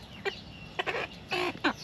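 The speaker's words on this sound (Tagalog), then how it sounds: "Ito yung mga manok natin, no?" Backyard chickens in a coop give several short, close clucks in uneven bursts over a quiet background.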